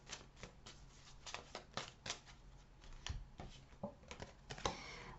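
Tarot cards are shuffled by hand in quiet, rapid bursts of papery riffling and soft taps, close and faint, with no talk over them.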